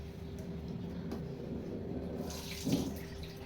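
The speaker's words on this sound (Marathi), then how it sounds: "रात्री मूग आणि उडदाची डाळ भिजत टाकलेली आणि चांगले धुवूनही घेतलेले पण तरीसुद्धा मी एकदा धुवून घेते परत" Soaked mung and urad dal being rinsed under a running kitchen tap, a faint, steady wash of flowing water with a slightly louder splash near the end.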